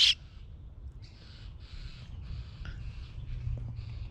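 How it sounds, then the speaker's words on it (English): A mother bird calls repeatedly in the background, faint harsh squawks in short bursts over a low steady outdoor rumble, with no one speaking. "I don't know if the camera's picking up the mama bird in the background."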